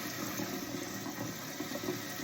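Sunflower petals rinsed under a running tap, a steady close rush of water with no break for the whole moment.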